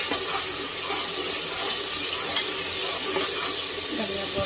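Tomatoes roasting in a pan with turmeric powder, giving a steady, fairly loud hiss and sizzle that runs throughout with no pauses.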